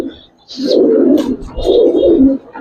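Giribaz pigeons coo in a couple of close, throaty bursts, one after another, with soft higher chirps between them and no one speaking.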